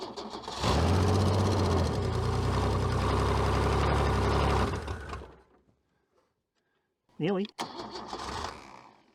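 Rusty junkyard Holden car engine running in gear, a loud rough rumble for several seconds that then stalls into silence, followed by a brief cranking burst; someone speaks briefly.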